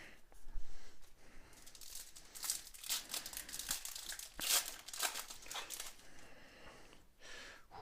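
A plastic trading card booster pack wrapper is torn open and crinkled, making close, soft crackles and rustles in irregular bursts throughout.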